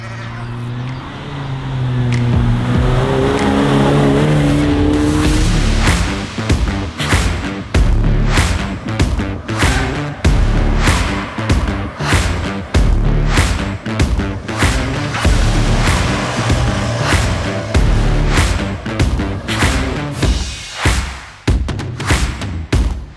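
A modified mini truck revs and runs along on a cruise, its engine loud and close with repeated sharp bursts and gear-change gaps over a steady low drone.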